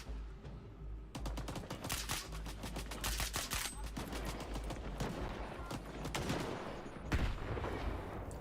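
Gunfire in S.T.A.L.K.E.R. 2: Heart of Chornobyl comes in loud, close bursts of rapid automatic shots, with short gaps between them and a heavier blast near the end.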